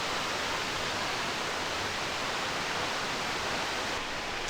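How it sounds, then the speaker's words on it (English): A waterfall heard from an overlook above it produces a steady, broad hiss of rushing water, constant and fairly loud with no voices. "Here's kind of the first overlook of the waterfall"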